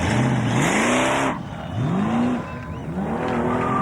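A 13B rotary-engined car at Summernats revs hard in three rising bursts, each climbing in pitch and then cutting off, loud and close, with a steady buzzing idle between the pulls.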